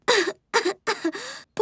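A cartoon character gives a fit of four harsh, rasping coughs in quick succession, close and loud, with short silent gaps between them.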